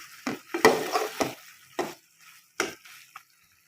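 Amra (hog plum) pickle with a tablespoon of white vinegar stirred in a hot pan, giving a series of sharp spoon scrapes and brief sizzling bursts, fairly close, with short pauses between strokes.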